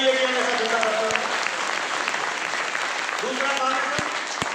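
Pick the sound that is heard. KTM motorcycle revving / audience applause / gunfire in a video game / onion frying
audience applause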